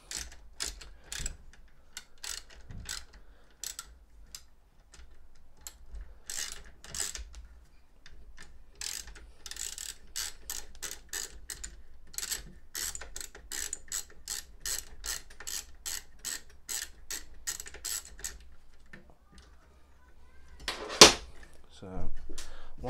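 Hex or Torx screws being loosened on an e-scooter brake caliper, with rapid, close clicking of a ratcheting tool in quick bursts and small metallic ticks, and a person talking intermittently over it.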